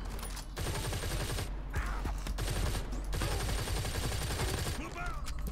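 Rapid bursts of gunfire from enemies in the video game Firefall, a dense fusillade rattling almost continuously at steady loudness with a few brief gaps, speech mixed in.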